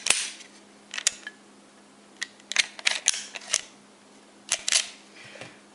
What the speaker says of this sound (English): I'll field strip this real quick and show you